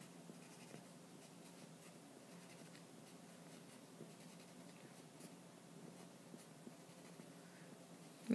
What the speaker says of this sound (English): as we draw it out with our colored pencils